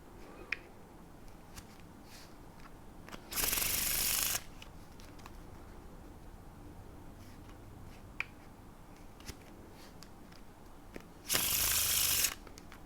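Two bursts of crisp, rapid card riffling, each lasting about a second, separated by quiet stretches with faint clicks and handling noises.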